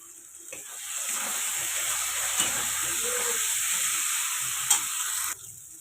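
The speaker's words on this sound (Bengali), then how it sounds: "অল্প একটু জল দিয়ে কষবো এটাকে ভালো করে" Paneer masala with Kashmiri chili powder and a little water fries in a pan, a steady close sizzling hiss broken by a few soft clinks of stirring, with no voices.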